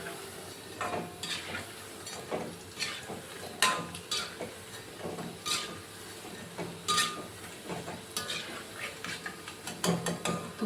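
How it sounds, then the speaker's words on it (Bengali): Large white-onion pakoras frying in hot oil in a pan, a soft continuous sizzle broken by repeated sharp clicks and metallic taps of a utensil, moderately close and fairly quiet, no voices. "এই যে দেখো পেঁয়াজি ভাজছি"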